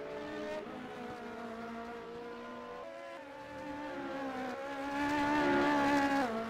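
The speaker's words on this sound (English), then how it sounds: "So you can hear the prototypes now revving in the pits, just getting ready to come out" Prototype race cars rev in the pit lane of a racing video game during an eight-hour Indianapolis endurance event, layered engine whines rising and falling together, moderately loud and swelling near the end, with no talk.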